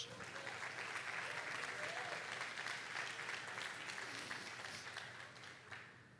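A church congregation claps together in sustained, dense applause that fills the room and fades gradually near the end, with some voices mixed in.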